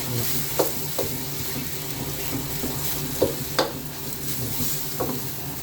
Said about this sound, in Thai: ใส่น้ำตาลปิ๊บพัดเคี่ยวให้มันหอม